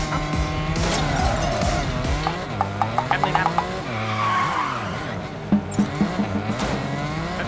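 A car drifts and skids in the Ace Racer video game, long wavering tire squeals sliding up and down in pitch over engine drone, with clicking mechanical bursts in between.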